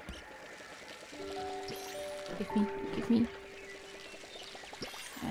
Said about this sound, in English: Need to water my plants.